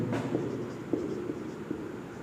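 Marker or chalk scratches across a board while an equation is written during a physics lesson, a steady close stroking sound with small taps over a low room hum and no talk.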